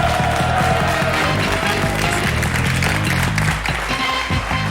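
A TV studio audience on a French dating game show claps loudly and continuously, a dense, close wash of applause with rhythmic beats underneath that lasts the whole stretch.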